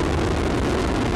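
Roar of the Soyuz MS-24 rocket at liftoff, a dense, loud, continuous broadband rumble with no break, heard alone.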